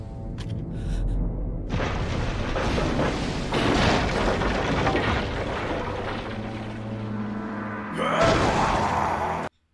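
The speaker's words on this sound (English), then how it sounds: "The huge blast." A huge blast in an anime episode of Fullmetal Alchemist: Brotherhood erupts as a loud, sustained booming roar with rumbling debris, dips briefly, then surges again near the end before cutting off abruptly.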